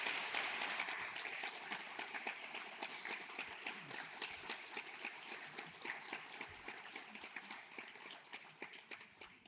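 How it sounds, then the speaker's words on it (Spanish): Audience applause at a traditional dress event in Peñaparda, in El Rebollar, heard as lively, dense clapping from a crowd that starts strong and slowly tapers off, somewhat distant and quiet overall. "Eso, un aplauso."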